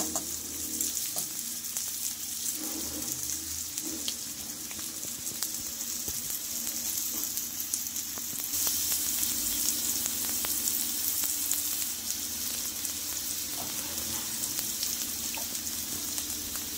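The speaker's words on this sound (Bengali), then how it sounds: "ভাজা ভাজা হয়ে আসছে, কয়েকটা বাকি আছে, আমি এবার তুলে নিব।" Bitter gourd slices fry in ghee in a village-style kitchen pan, giving a soft, steady sizzle and crackle that runs evenly throughout with no talking.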